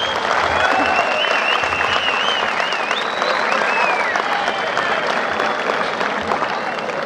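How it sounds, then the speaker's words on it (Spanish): Steady audience applause fills a rodeo arena for a bucking bull from Rancho La Herradura and its rider, a dense wash of clapping that runs unbroken for several seconds, with faint crowd noise mixed in. "quiero pedir el aplauso para el toro del hombre monarca de Rancho La Herradura"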